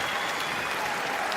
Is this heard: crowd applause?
yes